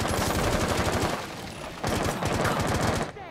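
Rapid automatic gunfire in Rainbow Six Siege on the Chalet map, loud and close, with dense repeated bursts that pause briefly mid-way before resuming and cutting off near the end.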